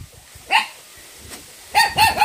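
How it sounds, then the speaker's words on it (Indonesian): Dogs bark at a remote rural house during a long dry season. A single bark is followed by a quick burst of several loud, close barks, with faint noises in between. "jadi di sini banyak guguk ya"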